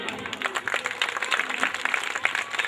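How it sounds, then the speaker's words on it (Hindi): Brief burst of dense applause from an audience at an outdoor Shrimad Bhagavat Katha religious gathering in Madhya Pradesh, steady and moderately loud for the whole short stretch. "जोरदार तालियां।"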